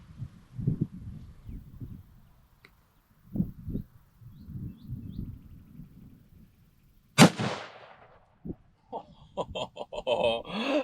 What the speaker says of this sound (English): I've got my Remington Model 700 30-06 here